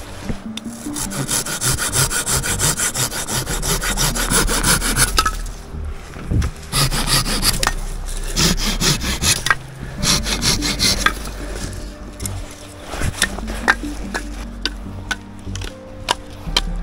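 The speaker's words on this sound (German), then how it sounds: "Den säge ich mir jetzt in Stücke." Hand saw cutting a large dead tree into pieces at a riverside wild camp in Sweden, with steady back-and-forth rasping strokes close by, broken by short pauses between bursts of sawing.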